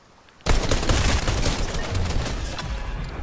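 Sudden burst of rapid gunfire in the video game Fortnite, a loud close volley starting abruptly after a quiet moment and continuing as dense crackling shots that slowly taper.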